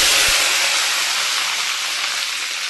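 Mint leaves hit a hot pan with a loud, broad sizzle that starts abruptly and holds steady, fading only slightly over a few seconds.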